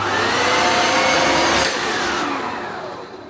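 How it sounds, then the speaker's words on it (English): A household vacuum cleaner with a moving brush head runs loud and close as a harsh, broadband roar, holding steady at first and then easing slightly near the end, with no voices over it. "That's even more loud than the regular Hoover."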